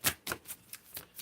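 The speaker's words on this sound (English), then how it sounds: "in which I'm shuffling these cards with," Tarot cards being shuffled by hand, about six quick crisp riffling bursts in a steady rhythm, close and clear with no talking.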